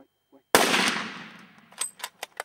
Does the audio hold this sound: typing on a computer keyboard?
no